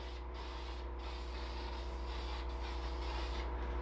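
Protective finish sprayed from a can onto a wooden octagonal lazy susan as it is spun on its ball bearings, giving a faint continuous hiss with soft rubbing and rotation noise, no talk.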